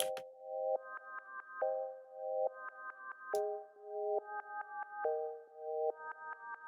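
A dark trap melody built in FL Studio, run through a Gross Beat effect with reverb, cycles through repeating plucked synth chords that step between two pitch patterns, with rhythmic volume pumping and a brief sharp hit midway.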